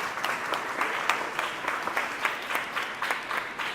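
An indoor audience at a Sesc literary talk claps steadily for a few seconds, a dense, even wash of applause with no voices over it.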